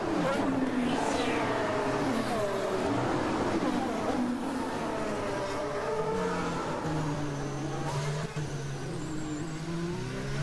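A Formula 1 car engine at the Azerbaijan Grand Prix whines through rising and falling revs over a sustained distant roar, with a commentator talking over it.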